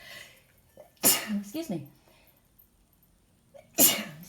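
A person sneezes twice, two loud abrupt bursts a few seconds apart, with a quiet spoken apology between them in an otherwise calm room.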